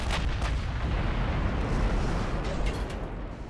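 Naval gun volleys roar in the Ultimate Admiral Dreadnoughts warship game, a continuous loud rumble of heavy fire with a few sharper bursts near the start and end and no talking.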